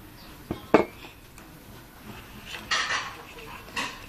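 A spoon scrapes and clinks against a bowl while desiccated coconut is mixed for coconut macaroons, producing a few sharp knocks and soft gritty scraping strokes, close up in a quiet kitchen.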